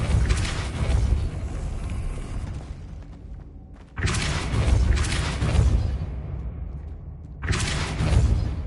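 Spell-combat effects from the Hogwarts Legacy video game, with the Depulso force spell among them: three loud, dense bursts of booming, rumbling noise, each fading off before the next surge hits.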